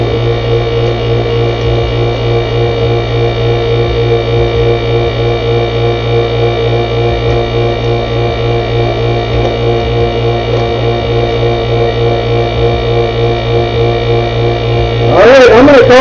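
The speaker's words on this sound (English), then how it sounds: "We can hear the vacuum pump letting down again." A vacuum pump on a vacuum former drones loudly and continuously with a steady, even tone, then a sharper burst of noise sounds right at the end.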